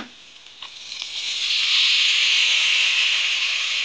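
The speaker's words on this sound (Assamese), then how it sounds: "এতিয়া ধোৱা মাংসখিনি ধুনীয়াকৈ কেৰাহীত দি দিবগৈ" Washed chicken meat for til chicken hits hot oil in a kadai after turmeric has gone in. A few light taps come first, then a strong, steady hiss of sizzling rises and holds close up.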